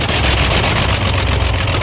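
Shacman 380 truck with a Weichai WP12 diesel engine, faulty with white exhaust smoke and weak pulling power, running steadily at close range, a loud continuous low rumble with no talk.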